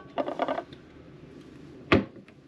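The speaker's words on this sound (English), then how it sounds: "These mirrors open and provide additional storage." Mirrored cabinet doors in a Royal Caribbean oceanview cruise cabin are opened, giving a short run of soft clicks and rattles followed by a single sharper knock, close and quiet.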